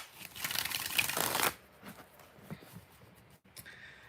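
Tarot cards shuffled by hand in a steady, dense riffling burst of about a second and a half, then lighter scattered card taps and handling sounds, close up with no talking.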